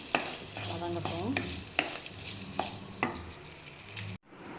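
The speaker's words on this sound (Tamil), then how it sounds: "கொழுக்கட்டையை போட்டாச்சு. கொஞ்சம் நேரம் அதில் வதங்கட்டும்." Kara kolukattai, steamed rice dumplings, sauté with onions in a pan, giving a steady sizzle punctuated by sharp scraping stir strokes. The sound is close and moderately quiet, and it cuts off abruptly near the end.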